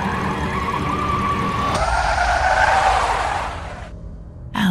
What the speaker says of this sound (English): when he suddenly hit the brakes